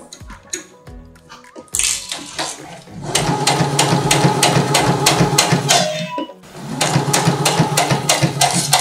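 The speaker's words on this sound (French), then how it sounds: "Et je continue ma couture comme ça, tout en suivant bien le tracé que j'ai réalisé à la craie." A sewing machine stitches a trouser fly in two sustained runs of rapid, even mechanical chatter, close and loud, with a brief pause and some handling noises between them.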